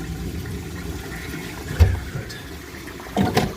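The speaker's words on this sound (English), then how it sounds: "Give it flush, just get the water out of it." An Ideal Standard concealed toilet cistern flushes and refills, giving a steady, fairly faint rush of water with a low rumble and a couple of brief louder surges.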